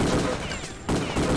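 Bursts of gunfire in the video game Return to Castle Wolfenstein during an online match on the Assault map, a quick volley that breaks off briefly before resuming, loud and close.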